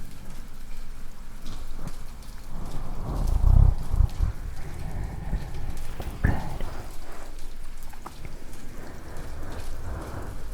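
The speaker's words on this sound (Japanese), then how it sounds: "雨の音も" Rain falls continuously at a moderate intensity, with a deep thunder rumble swelling near the middle and a sharper crack a few seconds later, then soft patter continuing alone.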